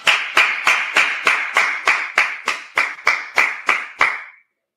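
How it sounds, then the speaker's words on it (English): A group claps in unison, about fourteen sharp, evenly spaced claps in a steady rhythm, loud and close, then stops abruptly into silence. "All right, let's clap it up."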